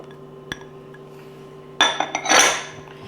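Chopped red onion and green pepper are tipped into a bowl of bean salad, with a single early clink, then a cluster of clattering knocks and a soft rustling tumble of vegetables, close and alone.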